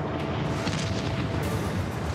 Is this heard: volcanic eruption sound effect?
yes